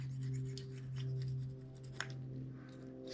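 Gasket material being scraped off an engine block during a Suzuki Carry engine swap, heard as close, short raspy scraping strokes in an uneven rhythm over a steady low hum.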